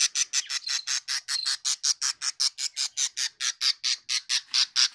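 A baby budgerigar chick about two to three weeks old squawks in a rapid, rhythmic series of shrill, raspy calls, close and loud, roughly four per second, with no talking.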